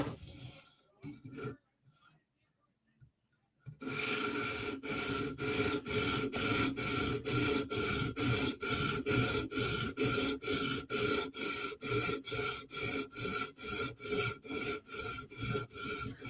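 Close, rhythmic strokes of a Chris Reeve Inkosi tanto blade being drawn over a sharpening stone, a regular series of scraping passes after a few quiet seconds with faint handling noises.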